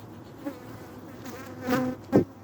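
Honeybees buzzing at the flight board of a weak hive after cold weather, a soft steady hum with a few closer individual buzzes swelling past near the end.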